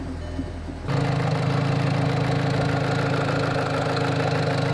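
A Volkswagen GTI with over 100,000 miles cranks briefly after an oil change with an engine oil additive and settles into a steady, loud idle with a rough, slightly knocking hum, close up.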